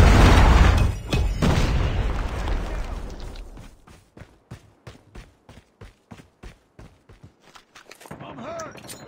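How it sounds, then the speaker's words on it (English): A predator missile explodes in Call of Duty Mobile with a loud, deep boom and a long rumbling tail, followed by a quick run of even footsteps. "Friendly predator missile inbound."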